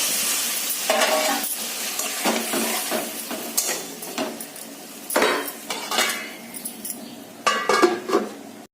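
A potato, pointed gourd and katla fish curry is worked in a pot with loud metal clanks and scrapes, then water pours in with a hiss and a lid clatters down, all close by.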